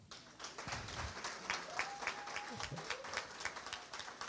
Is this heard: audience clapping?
yes